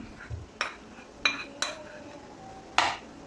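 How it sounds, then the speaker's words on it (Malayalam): A spoon knocks and scrapes against a bowl while mashed boiled potato is mixed with other ingredients for a potato snack. Several sharp, separate clinks sound close and fairly quiet, with faint room noise between them. "എല്ലാം കൂടി ഇട്ട് കൊടുത്തൊന്ന് ഇളക്കി യോജിപ്പിച്ച് കൊടുക്കാം"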